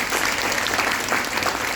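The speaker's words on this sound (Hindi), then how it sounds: "इस बात पे ताली होनी चाहिए" Steady audience applause at a weight-loss workshop talk, a dense continuous patter of many hands clapping at moderate loudness throughout, with no speech over it.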